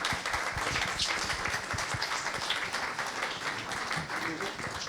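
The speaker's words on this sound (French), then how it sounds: "on peut applaudir Amaury." Applause from the audience at a short-film festival round table, steady clapping with scattered individual claps close by, a faint voice underneath.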